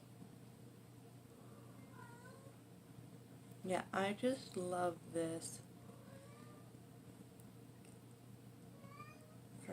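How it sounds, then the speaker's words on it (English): A pet cat meows several times in a short cluster, fairly close, over a steady background hum, with a person talking quietly around it. "You guys hear my cat?"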